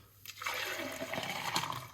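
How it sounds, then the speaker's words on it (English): A drink is poured off into a container, a steady liquid gush that starts after a brief quiet moment and runs continuously at close range, with no talk. "We'll just pour it off"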